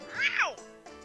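A single high, drawn-out cat meow from the game Pokémon Sun and Moon, with a rising then falling pitch, loud and close, followed by a faint electronic tone.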